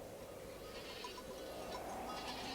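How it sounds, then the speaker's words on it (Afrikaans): Several goats bleat in short, scattered calls over a steady windy outdoor background as a herd is driven along on a cold, blustery morning, with no talk. "Daar kom Pieter met sy bokke aan"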